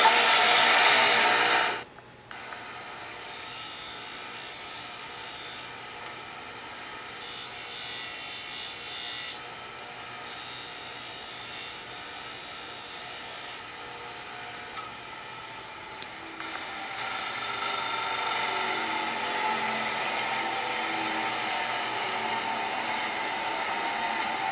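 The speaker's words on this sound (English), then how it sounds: "use the hard felt wheel with chromium oxide buffing compound to put a high polish on the edge" A hard felt buffing wheel charged with chromium oxide compound polishes the edge of a hand-forged chasing tool, giving a steady, fairly loud motor whir with a faint grinding hiss that runs continuously from start to finish.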